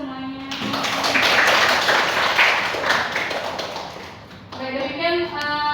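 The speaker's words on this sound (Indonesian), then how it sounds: "Baik teman-teman, tepuk tangan semuanya." Students in a lecture class clap together in a dense burst of applause lasting about four seconds, with a voice just before and after it.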